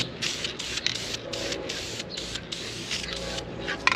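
A can of spray paint hisses steadily onto the side boards of an International 4700 dump truck, a continuous close spray broken by brief pauses between passes.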